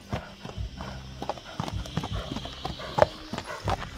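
A horse gallops in Kyrgyzstan, its hooves clip-clopping in a quick, uneven run of close thuds.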